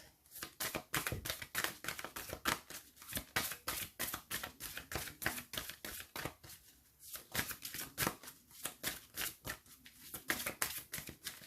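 Tarot cards are shuffled over and over, giving rapid bursts of crisp riffling clicks in a steady repeating rhythm, close and fairly quiet, with no talking.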